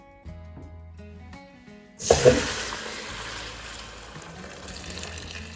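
Lamb marrow bone broth, simmered about 11 hours, is poured through a strainer, starting with a sudden splashing gush that settles into a steady, softer trickle of liquid, heard alone and fairly close.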